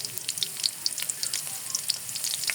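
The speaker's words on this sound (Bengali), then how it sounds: "বাদামি কালার করে নেব রসুনটাকে।" Garlic frying in about two tablespoons of oil in a pan while cooking tomato dal, a steady crackling sizzle with small pops, close and continuous, no voices.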